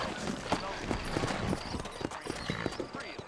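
Horse hooves clip-clop at a walking pace in a Red Dead Redemption town scene, several animals stepping unevenly over a dusty street under steady talk and background bustle, moderately close.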